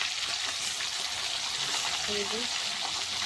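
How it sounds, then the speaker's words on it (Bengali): Cauliflower and masala fry in a pan while being turned, a continuous dense sizzle held close and loud throughout, with a faint brief clatter near the end. "চলো দেখি উল্টো পাল্টে ভাজা করে নিই"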